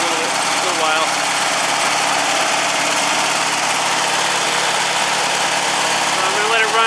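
An old Volkswagen engine running at fast idle on choke, a steady, even mechanical hum with a faint rattle that holds constant throughout, with no talking over it.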